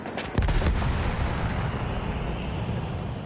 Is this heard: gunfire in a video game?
yes